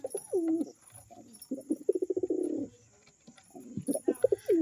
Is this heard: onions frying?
no